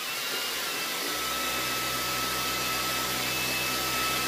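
A stick vacuum cleaner switches on and runs steadily with a loud, even whir and high-pitched whine, no voices present.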